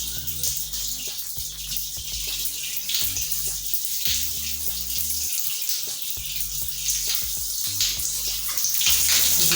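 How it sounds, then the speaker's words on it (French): Running water rinses washed hair, a close, steady hiss of a tap or shower stream with splashing and dripping throughout. "maintenant je vais rincer la section"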